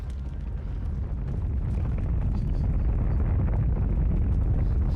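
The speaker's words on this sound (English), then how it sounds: "We just read a massive explosion." A massive explosion of a CIS Providence-class ship in a video game, a sustained loud, low rumbling roar that holds steady throughout with no voices over it.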